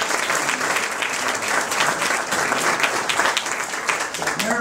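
An audience applauds steadily at a Pacifica birthday dinner hosted by the city's Chamber of Commerce and Historical Society, a dense continuous patter of clapping that stays loud throughout without a break.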